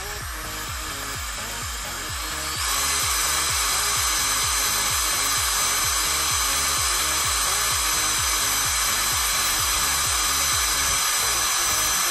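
A power drill runs against an iPhone and whines steadily, stepping up to a louder, higher speed after about two seconds, while a fast rhythmic grinding chatter repeats under it throughout.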